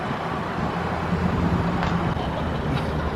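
A new car pulls away from a dealership showroom, its engine and tire rumble steady and close with a low broadband hum throughout, swelling slightly midway.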